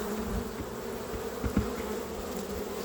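Honeybees buzz in a steady, continuous drone close by while basswood honey frames are handled during a harvest, with a few faint knocks and bumps under the hum and no talking.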